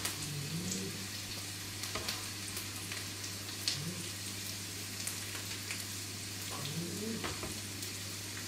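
Onion and garlic frying in a pan for a beef and pork meatloaf give a faint, even crackling hiss, with a few light stirring scrapes and a low steady hum underneath.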